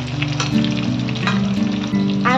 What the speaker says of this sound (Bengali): আলুগুলো ভাজা ভাজা হয়ে গেছে, তেলে একটু লাল লাল করে